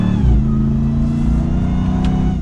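A 2022 Ram 1500 TRX pickup's engine pulls hard through a quick U-turn, a loud, steady close-up roar that rises briefly in revs near the start and then holds, with no talking.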